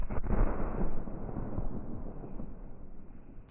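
Unexploded mines and shells are destroyed in a controlled detonation in a cleared field, heard as a heavy, muffled blast with a long rolling rumble that slowly fades.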